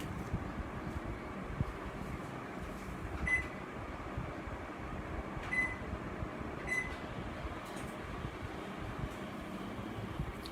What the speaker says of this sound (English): So our oven is getting heated at 180 degrees Celsius.